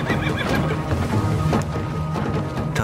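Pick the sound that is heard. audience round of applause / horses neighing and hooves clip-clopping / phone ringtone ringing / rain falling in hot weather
horses neighing and hooves clip-clopping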